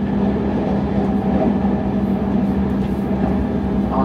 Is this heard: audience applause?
no